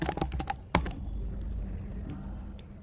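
Quick clatter of keystrokes on a computer keyboard, a fast cluster of taps with one sharper key strike, then quiet room tone.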